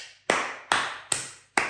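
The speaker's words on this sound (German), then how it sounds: "da muss ich kurz einmal Olaf einen kleinen Applaus geben" Four sharp hand claps, spaced evenly and alone, a brief applause for a man named Olaf.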